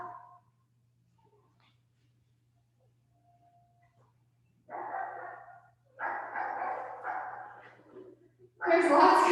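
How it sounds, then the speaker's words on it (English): A dog barks somewhere in the background during a quiet indoor session, giving several short bursts of yapping separated by pauses. The bursts grow louder toward the end. "I'm not sure if you can hear that dog barking"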